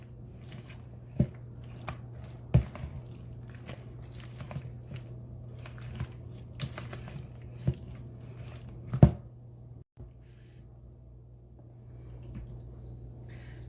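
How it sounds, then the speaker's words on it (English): Cheese is folded into a spinach and bacon pie filling in a bowl, giving soft intermittent squishes and occasional sharp clicks against a steady low hum, with no talking. "I am going to go ahead and fold the cheese and everything in together so it's all combined."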